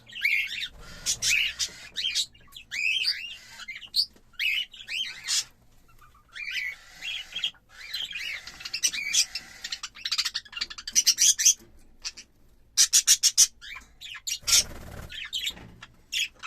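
Cockatiel chicks chirp and squawk in repeated bursts of high, scratchy calls with short quiet gaps, close to the microphone.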